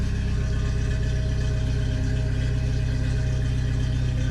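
A 1997 Jeep Wrangler TJ engine runs at a steady idle after a transfer case swap, a constant low rumble heard close up with no talking.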